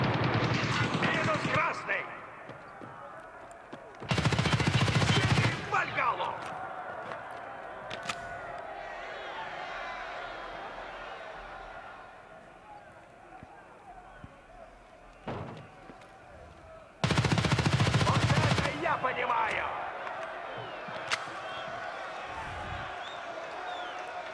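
Gunfire in the video game Escape from Tarkov Arena: two loud, dense bursts of shots stand out sharply over a quieter bed of in-game ambience and scattered smaller impacts.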